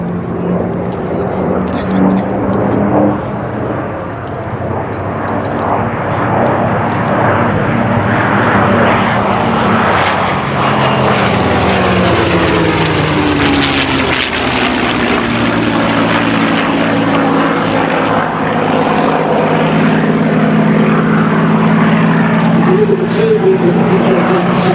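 A twin-engine fighter with supercharged, intercooled engines flies at a Red Bull Flying Bulls air display, its loud, continuous droning roar rising and falling in pitch as it passes, while a commentator talks over it.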